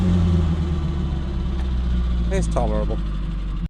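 A Wolseley 1300 car on a road test, its engine a steady low rumble filling the cabin, while someone speaks briefly over the droning motor.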